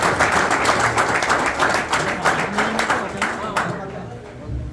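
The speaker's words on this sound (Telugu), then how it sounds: "క్లాప్స్ తో మనం థ్యాంక్స్ చెప్పాలి." An audience at a Sankranti cricket series event applauds in thanks, a dense burst of rapid hand clapping that thins and fades toward the end, with voices mixed in.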